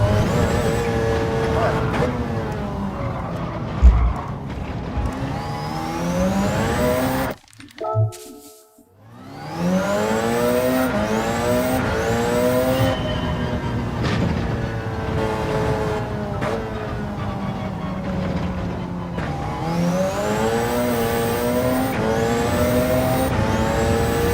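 A race car engine in a racing video game, revving up through repeated rising gear sweeps with shifts and a brief cut in the middle, loud and continuous throughout.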